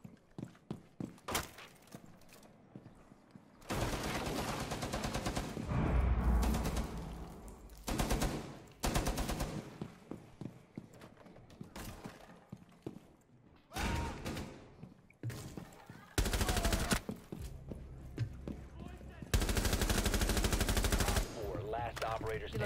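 Automatic and single gunfire bursts in Rainbow Six Siege, loud and close, coming in repeated volleys over roughly twenty seconds with short gaps between them and a few brief moments of talk.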